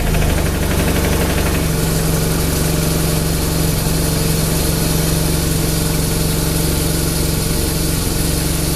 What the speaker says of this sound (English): just start it up for a few minutes and just let that oil get circulated through the engine